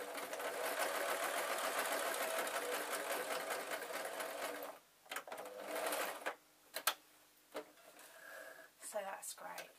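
A sewing machine stitches three fabrics together at the end of a triangular seam on a stuffed toy raven, running steadily and loudly for about five seconds, then breaking into short stop-start bursts.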